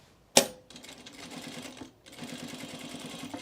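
Sewing machine stitching a seam close to the fabric edge: a sharp click at the start, then a rapid rhythmic mechanical whir that pauses briefly and resumes, close and fairly quiet.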